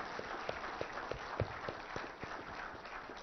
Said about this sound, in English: So I think my entire team deserves a huge round of applause.